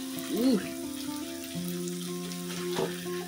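Jumbo squid frying in a pan for nasi goreng, a steady close sizzle with a brief voice early on and tonal hum running underneath.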